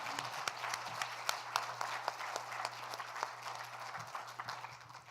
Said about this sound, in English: I want to give a round of applause to our panel for their interesting presentations.